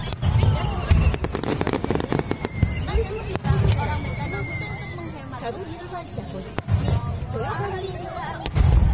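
Fireworks at a large Japanese hanabi festival in Japan: loud, sharp bursts and crackling pops in irregular clusters, some booming and close, over a steady hubbub of crowd chatter with voices talking nearby.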